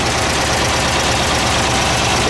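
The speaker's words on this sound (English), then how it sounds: "the engine sounds quieter already" A 1971 VW Type-3 Squareback 1600 engine idles after a valve adjustment, running loud and close with an even, steady rhythmic chug and no speech.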